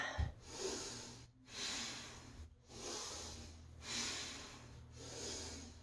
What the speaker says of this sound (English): Last few breaths.